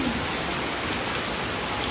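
Heavy rain pours down at night in a dense, steady hiss, loud and unbroken across the whole moment.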